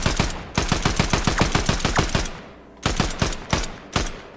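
Gunfire during aim training in a shooter game: a fast burst of about a dozen loud shots, a brief pause, then a few separate tapped shots.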